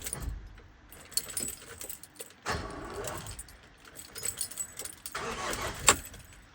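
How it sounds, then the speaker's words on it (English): The starter motor of a Vauxhall Movano 2.3 CDTi is flicked to loosen a crank pulley bolt, giving two short cranking bursts a few seconds apart, with keys jangling and workshop handling noise around them. "the way I'm going to do that is by carefully flicking the starter motor"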